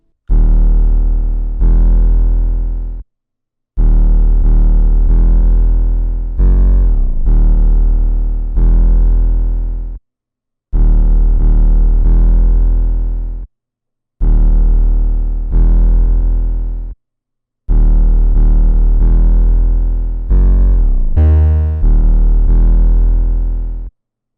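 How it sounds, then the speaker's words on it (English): A heavy, distorted 808 bass plays a repeating pattern of long booming notes with short gaps, gritty and blown out, loud and alone. "we have the 808 pattern, which is going to sound like this."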